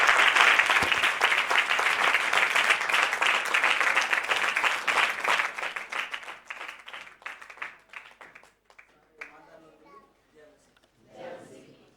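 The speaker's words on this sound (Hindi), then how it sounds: "परमेश्वर को आशीष ताली बजाओ" A church congregation claps together in a dense, sustained burst that thins out into scattered claps and fades, with a few faint voices at the end.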